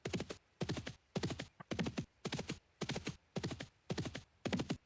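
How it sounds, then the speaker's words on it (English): Horse hooves clip-clop in a steady galloping rhythm while riding in the Dark Age of Camelot game, about nine evenly spaced bursts of close, crisp hoofbeats with short gaps between them, no voices. "We're already riding horses there"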